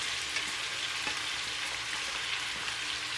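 Chicken, shrimp, garlic and zucchini sizzle steadily in a hot pan, a constant crackling hiss with faint scraping from stirring, with no voices.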